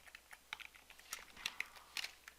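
Quiet, close keystrokes tap on a computer keyboard in an irregular rhythm, faint and alone.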